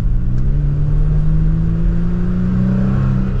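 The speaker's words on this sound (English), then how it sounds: "Just a mild acceleration." A 2023 Toyota Tacoma TRD Pro pickup accelerates gently, its engine note a steady, loud, smooth drone heard from inside the cab with the pitch slowly rising.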